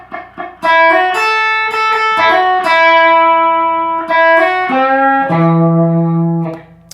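Electric guitar plays the first chunk of a song intro: a loud, driven lead line of quick picked notes running downward and settling on a long held low note, heard alone.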